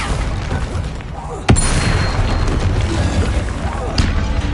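A spell explosion from Bombarda or Confringo in a Harry Potter video game lands as one sharp, loud blast, followed later by a smaller hit, over continuous battle noise.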